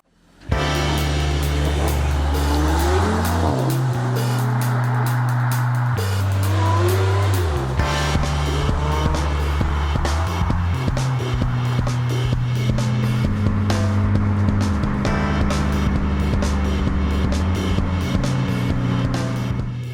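A Porsche Panamera 4S V6 driving on Bavarian roads, its engine loud and continuous with repeated gear changes, rising and falling revs and a faint tire squeal.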